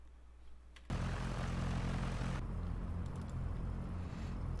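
Cessna 172 piston engine in the X-Plane 11 flight simulator at Portland, runway 28, throttling up for takeoff: a quiet idle that jumps into a loud, steady propeller drone and holds for several seconds.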